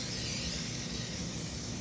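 Cooking spray hisses steadily into a cake pan in a home kitchen, one continuous close spray lasting under two seconds, with no talk.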